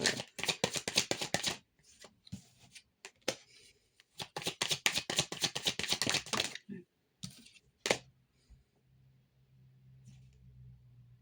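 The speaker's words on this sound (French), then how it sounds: "je prends les cartes pour avoir..." Playing cards are shuffled and riffled up close, with dense bursts of rapid clicking flutters separated by short pauses and a few single snaps, then a faint background hum as the shuffling stops.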